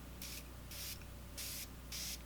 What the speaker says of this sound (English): this does look to be more of like an aerosol type of spray